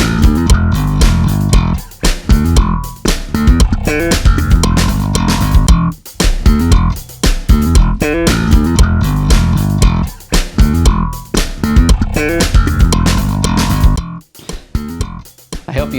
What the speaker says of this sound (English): We've created a very simple groove with our KAT pad, Pro Tools, and Superior Drummer